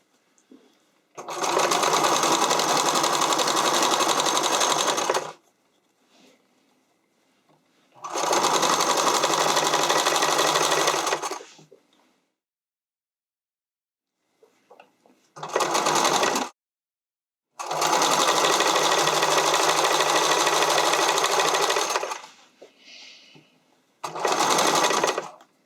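Sewing machine zigzag stitching elastic onto the armhole of a bodice, running in several loud, steady bursts of a few seconds each, separated by short pauses and stops.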